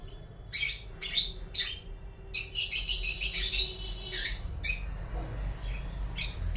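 Pet lovebirds squawk and chirp in short, sharp bursts, several overlapping calls clustered in the middle, close and fairly loud over a low background hum.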